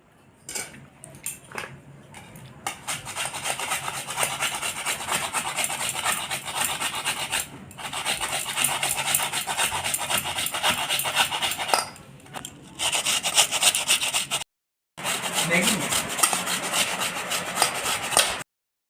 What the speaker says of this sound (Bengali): এখন এই আলুগুলো আমি ঘষে নেব তো এটা দিয়ে